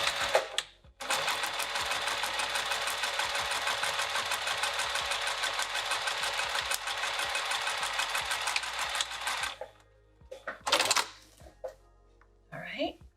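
Sewing machine stitching a bag seam with matching thread, a loud, fast, steady mechanical whir running about nine seconds before stopping, followed by a couple of short bursts.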